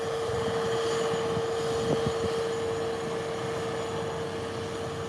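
Airplane slowly taxiing on a runway at Howard Hamilton International Airport, giving a steady, continuous engine rumble with a sustained tonal whine and no speech.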